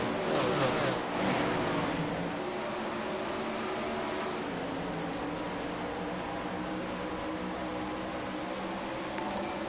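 Race cars in the iRacing video game accelerating together at the green flag, a loud layered engine roar that swells at the start and then settles into a steady sustained drone without talk.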